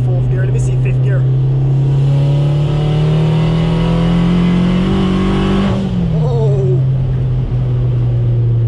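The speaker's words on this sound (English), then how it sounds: "Fifth gear feel like a demon, because I was expecting it to spin, but it like just haze a little bit and it start to torque steer." A turbocharged Honda Civic Si accelerates hard in fifth gear, its engine drone climbing steadily and loudly for several seconds before the revs drop sharply, with a voice talking over it.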